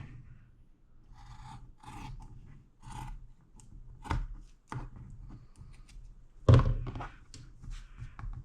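Jelly roll quilt fabric is cut in a series of quiet rasping strokes, with a few sharper thunks against the cutting surface and short pauses between cuts.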